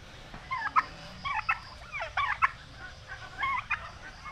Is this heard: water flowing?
no